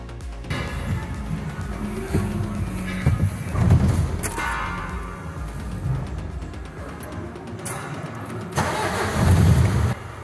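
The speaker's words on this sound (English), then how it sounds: "we can clear all the old error codes and start the truck up" A DAF LF truck engine cranks and starts after an emission fault repair, then settles into a rumbling idle with a couple of louder revs, close and fairly loud.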